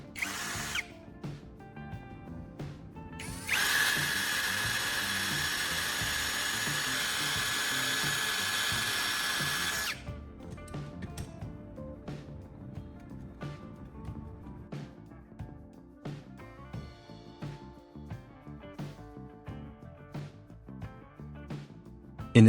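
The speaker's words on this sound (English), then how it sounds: "I'll carefully drill 2 holes just big enough to pass the ends of the copper wires through the top" Power drill boring two small holes into an empty plastic phone charger casing, a sustained whine of about six seconds, then short clicking and ratcheting taps of handling.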